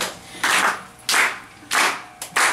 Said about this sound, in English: So it's super easy, just clap.